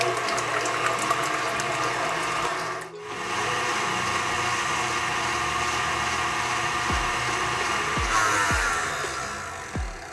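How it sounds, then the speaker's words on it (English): Egg whites being whisked for an Indonesian spice layer cake, likely with an electric mixer, giving a steady, continuous whirring drone close by with a brief dip partway through and no talking. "Now you want to whisk this until it starts to get foamy."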